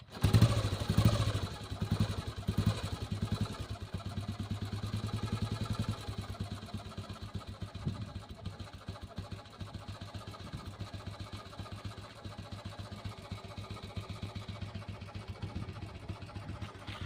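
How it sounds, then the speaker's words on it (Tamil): A restored 1986 Royal Enfield Bullet petrol motorcycle is started with an electric start, then settles into a steady single-cylinder idle with an even low thump. It is close and alone, with no talk. "வாங்க வண்டி அப்படி ஸ்டார்ட் பண்ணி பார்க்கலாம் வாங்க."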